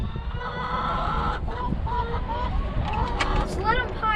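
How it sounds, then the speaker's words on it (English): Chickens cluck and squawk close by as they are let out of a backyard coop, with rising calls and a rooster-like cry near the end, under a steady background hum. "first thing we gotta do is get all the chickens out of the coop"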